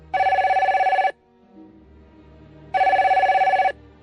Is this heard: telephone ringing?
yes